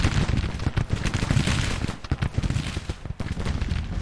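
Dense, continuous rifle fire from dismounted Civil War cavalry in loose order in Grand Tactician rolls on as a loud crackling fusillade with rapid overlapping reports and no pauses.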